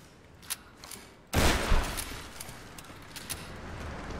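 A shotgun blast in the action game Tomb Raider rings out as one heavy, booming shot with a low thump and a long fading rumble, after a couple of small clicks and knocks.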